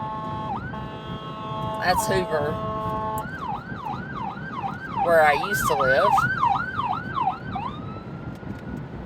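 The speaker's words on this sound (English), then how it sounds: "And here comes an ambulance." Emergency siren wailing in repeated rising-falling sweeps as an ambulance or fire department vehicle passes in traffic, loud and fairly close over road rumble, with a second siren pattern overlapping midway and a person talking at the start.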